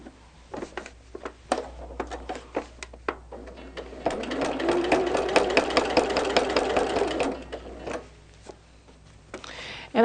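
A sewing machine quilts blocks together, starting with a series of separate short stitching bursts, then running steadily for several seconds in a fast, close mechanical whir before stopping and giving a few more short bursts.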